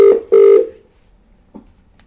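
A telephone ringback tone sounds twice in quick succession, loud and clear, followed by a brief faint blip and then quiet.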